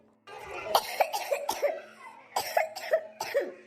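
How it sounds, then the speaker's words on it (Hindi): A woman coughs repeatedly in two close bursts of harsh, throaty hacks, loud and near, with a short pause between them. "दुल्हन के काहे इतना खांसी आवत बाटा है?"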